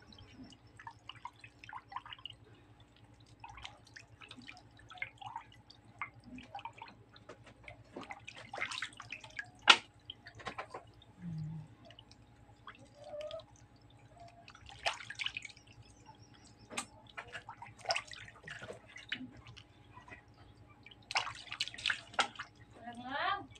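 Water trickles and drips intermittently while fish are cleaned at a sink, faint splashes and taps scattered throughout under occasional quiet talking and a low background hum.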